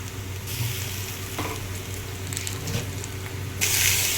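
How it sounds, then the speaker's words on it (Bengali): Ginger garlic paste frying gently in a pan over a low flame for an egg tadka, a soft steady sizzle with a few light scrapes and a brief louder hiss near the end, with no talk. "এটাকেও আমি হালকা করে একদমই ফ্লেমটা লো করে ভেজে নিচ্ছি, যাতে কাঁচা গন্ধটা চলে যায়"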